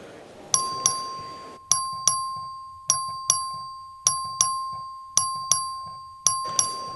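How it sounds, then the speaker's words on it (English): An electronic voting bell in a legislative House chamber chimes repeatedly in a steady two-tone pattern, clear and ringing with short decays between strikes, no voices present. "The clerk will ring the bell."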